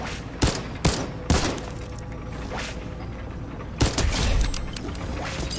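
Bursts of assault rifle fire from the red assault rifle in Fortnite, a few sharp loud volleys with quieter mechanical clatter between them and no talking.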